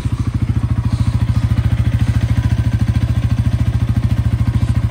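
A motorcycle engine running close by at a steady idle, loud rapid even thumping pulses with no change in pace.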